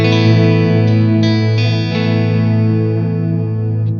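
An electric guitar runs through a multi-effect unit with distortion and pitch shift, holding a loud, thick, sustained distorted chord that rings out for several seconds with a few picked accents, no talk.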